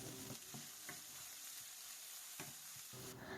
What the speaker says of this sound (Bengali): এখন আমি টমেটোটা একটু হালকা সিদ্ধ হওয়া পর্যন্ত ভেজে নিচ্ছি।